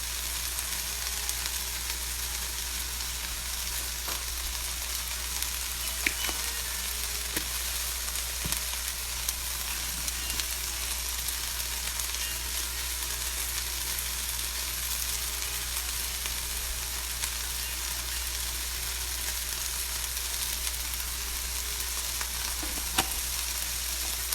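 Seasoned okra frying in a skillet, a steady, even sizzle that holds without pause for over twenty seconds, with faint occasional pops and stirring taps and no talking.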